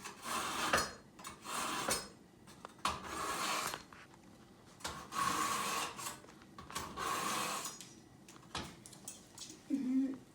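A knife is drawn through a sharpening machine in repeated rasping, scraping strokes of about a second each, fairly close, with a voice speaking in between.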